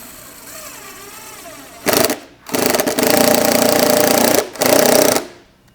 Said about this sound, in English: drive your screw in.